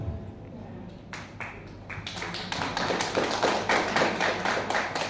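A seated audience claps at an inauguration ceremony for a regional women's organisation: a few scattered claps build quickly into dense, steady applause from a roomful of people, loud and sustained, with some speech underneath.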